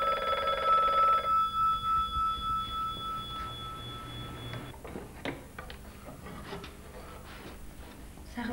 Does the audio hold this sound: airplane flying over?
no